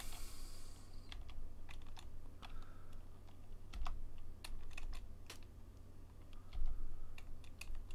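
Rapid, uneven keystrokes on a computer keyboard as a terminal command is typed during an Arch Linux installation, close and clear with no talking.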